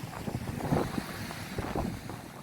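Strong wind buffets the microphone on the beach at Saline-les-Bains on Réunion, a continuous loud, rough roar with uneven gusts and no voices.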